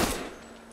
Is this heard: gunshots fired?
yes